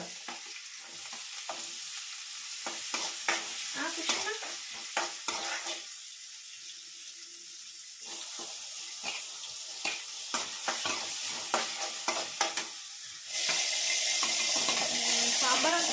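Spices for a tempering sizzle in hot oil in a home kitchen, with bursts of crackling and spattering, clinks of utensils and short quiet gaps. A loud, steady hiss takes over at the end, and a brief voice is heard.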